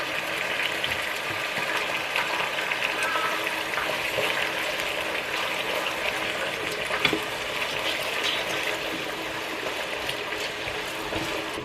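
Marinated meat frying in a pan gives off a continuous bright crackling sizzle with scattered pops, steady and close throughout.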